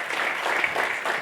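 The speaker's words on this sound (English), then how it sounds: "Dear guests, can we have a huge round of applause for Mr. Gupta?" Audience applause for a keynote speaker at a data summit, a short, steady wash of clapping from a crowded conference hall with no talk over it.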